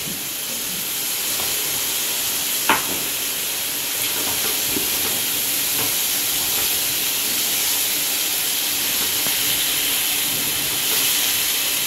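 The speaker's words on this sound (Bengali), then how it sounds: "এবার ভালো করে কষিয়ে নেব।" A fish curry masala with home-ground Kashmiri chilli paste fries in a pan, giving a steady hissing sizzle with faint scattered stirring taps and one brief sharp knock early on.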